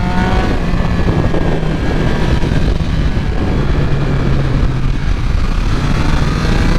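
A 2022 Triumph Speed Triple 1200 with a BT Moto ECU flash tune accelerates steadily, giving a loud, continuous engine roar with rushing wind noise throughout.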